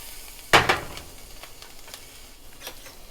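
Garlic and ginger hit hot fat in a pan with a sudden loud sizzling burst, quickly fading to a low steady crackle with a few faint clinks.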